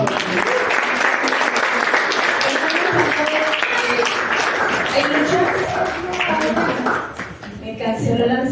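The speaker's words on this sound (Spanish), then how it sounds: "Denle un aplauso." A church audience gives a loud, sustained round of applause with dense, crisp clapping throughout, and voices mix in beneath it near the end.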